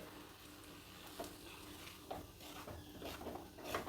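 Poha being stirred with gojju in a hot pan, giving a soft continuous scraping and sizzle with a few sharper spatula knocks against the metal, fairly quiet and steady with no talking.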